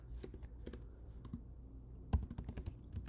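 Clicky keystrokes on a computer keyboard while JavaScript code is typed, arriving in loose bursts, with a denser flurry of close taps toward the end and no talking.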